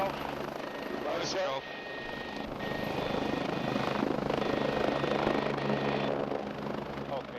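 A Rega rescue helicopter's rotor and engine thrum steadily and fairly close during a winch operation, a continuous whirring drone with some faint background voices mixed in.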